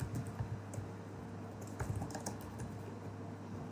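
Quick, light keystrokes tap on a computer keyboard as code is typed in bursts, soft and close in a quiet room, with no voices.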